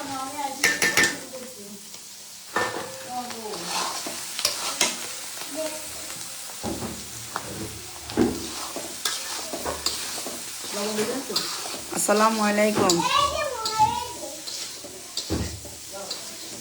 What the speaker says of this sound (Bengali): সব সবজি ভাজা হচ্ছে